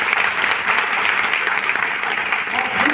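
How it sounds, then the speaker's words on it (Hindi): An audience at a speech event in Ranchi applauds loudly and steadily in a dense, continuous wash of clapping, honouring the Indian Army, with no talk over it. "मैं इंडियन आर्मी के लिए भी चाहूंगा कि एक बार जोरदार ताली हो जाए।"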